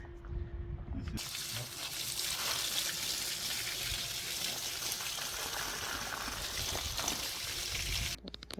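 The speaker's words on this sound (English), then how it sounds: "hubby is going to rinse off the bulb so we don't take all that dirt inside" Water running over a freshly dug plant bulb in a spring garden to rinse off the dirt, a steady rushing splash that begins after a second and continues evenly before cutting off near the end.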